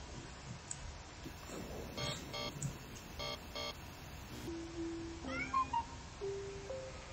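A kitten in the video game Amanda the Adventurer gives several thin, rising and falling meows in the second half, after a run of electronic beeping tones, over soft background hiss with no talking.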